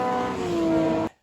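An Opel C20XE Red Top rally engine screams at high revs, a loud, steady whine with strong harmonics, then cuts off abruptly.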